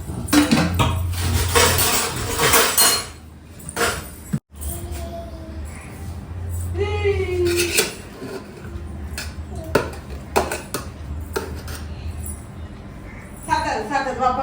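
Dishes and cutlery clink and clatter as food is served for a Tamil New Year family meal, with intermittent close clinks and scrapes while people talk throughout.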